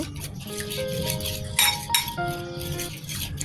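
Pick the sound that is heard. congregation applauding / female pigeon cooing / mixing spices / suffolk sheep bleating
mixing spices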